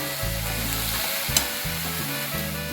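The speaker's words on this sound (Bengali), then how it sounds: "এবারে ভালো করে নাড়াতে থাকবো" Boiled greens stirred as they fry in a pan, a loud continuous sizzle close by with rhythmic scraping stirs and a faint hum underneath.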